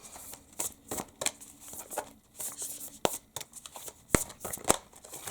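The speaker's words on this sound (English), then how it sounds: "So let's pull a Moonology card or two." Moonology oracle cards being shuffled by hand, a run of soft riffling and slapping bursts with a few sharper snaps as cards are pulled, close and fairly quiet with no talking.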